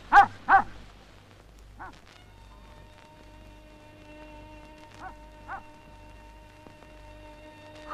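A Mongolian Bankhar, or Tibetan Mastiff, gives two loud close barks, then scattered fainter woofs and yips spread over several seconds, with a steady low hum underneath.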